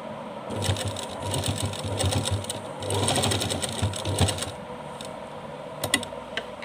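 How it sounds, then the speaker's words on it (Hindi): A sewing machine runs close up, stitching a curved seam on a small dress for a Laddu Gopal figure. It gives a rapid mechanical chatter in two bursts with brief pauses, and then a couple of clicks as it stops. "इसके ऊपर जहाँ से हम इस तरह से गुलाई में ही सिलाई लगा देंगे।"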